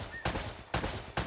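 Gunfire in the video game Uncharted: three sharp, loud shots in quick succession, each a sudden burst that fades before the next, with no voices over them.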